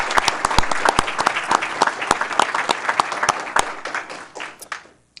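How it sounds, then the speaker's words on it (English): An audience at a city council regular meeting applauds loudly with dense, sustained clapping that fades out near the end. "I want to give a round of applause to Jeanne Burbidge as well."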